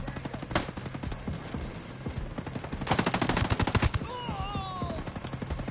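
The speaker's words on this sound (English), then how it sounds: "let's do some sync shots here" Sniper rifle shots and sustained gunfire in the tactical shooter Ghost Recon Breakpoint. A rapid burst of loud gunfire hits near the middle, there are scattered shots before it, and a brief radio-style voice follows.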